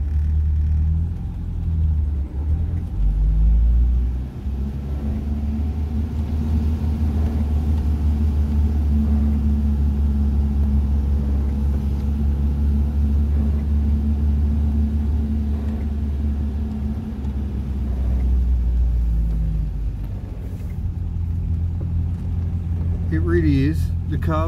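Citroen DS on the road, a steady low engine and road rumble running throughout, close and even, with a brief louder surge early on and a short sweeping whine near the end.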